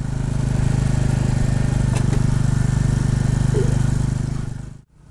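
Royal Enfield Bullet 350 single-cylinder motorcycle riding, its steady low engine thump and wind rumble close and loud throughout, with a brief knock partway through, before cutting off abruptly near the end.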